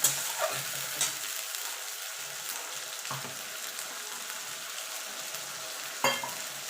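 Ginger-garlic paste fries in a pan for chicken kosha, giving a steady close sizzle under occasional scraping stirs and a sharper clatter near the end, with no voices.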